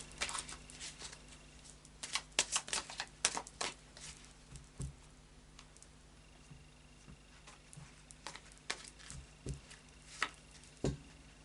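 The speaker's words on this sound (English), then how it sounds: "I'll just do a final shuffle now of the Moonology Oracle cards" Moonology Oracle cards are shuffled by hand in a quiet room, a series of crisp riffling bursts and soft slaps in an irregular rhythm, close up.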